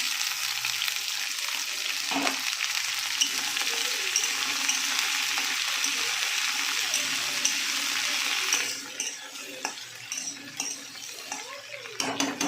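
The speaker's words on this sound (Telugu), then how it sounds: "ఇప్పుడు బెండకాయలు వేసుకోవాలి" Okra frying in hot oil with dried red chillies and curry leaves in a pan, a steady close sizzle running throughout with occasional clinks of a utensil against the pan.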